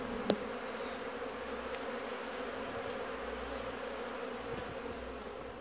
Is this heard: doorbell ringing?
no